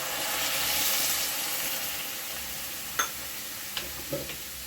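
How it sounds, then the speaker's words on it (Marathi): Water poured onto jaggery in a hot kadai gives a broad hiss and sizzle that swells early, then settles into steady bubbling with a few sharp clicks and light stirring taps toward the end. "गूळ वितळण्यासाठी थोडं पाणी ओतून घेतलं म्हणजे गूळ आपला पटकन वितळतो।"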